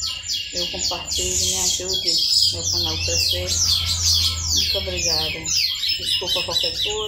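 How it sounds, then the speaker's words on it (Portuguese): Small birds chirp and tweet busily outdoors beside a busy avenue, dense rapid calls layered throughout while someone talks over them. "desculpa o barulho dos passarinhos"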